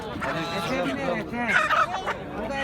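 Poultry calling nearby at a chicken, rooster, turkey and goose market in Kırıkkale, Turkey, with gobbling and clucking sounds mixed with crowing over a busy background.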